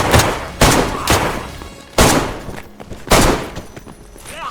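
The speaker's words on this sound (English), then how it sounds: "That was me shooting zombies." Gunfire from shooting zombies in a video game, several loud booming shots spaced about a second apart, each with a long decaying tail, alone without talk.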